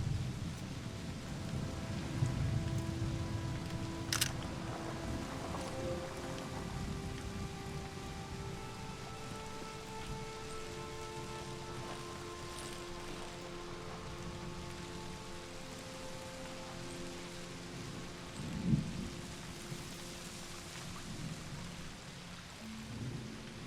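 Steady rainfall with distant rolling thunder in the video game Season: A Letter to the Future, a soft continuous patter with low rumbles swelling now and then and a sharper crack near the start.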